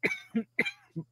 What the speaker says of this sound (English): I get this cough